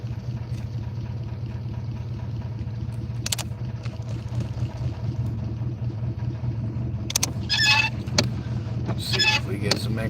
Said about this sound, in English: car is running rough.